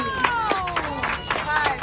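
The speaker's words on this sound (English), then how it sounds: "how about a big round of applause for our pilot, Chad?" Scattered clapping and cheering from submarine tour passengers for the pilot on an Atlantis submarine off Lahaina, Maui, short and close, with a whining machine tone running underneath.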